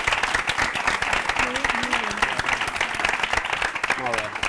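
Studio audience at a televised quiz show applauding steadily throughout, dense continuous clapping with a host's voice speaking over it.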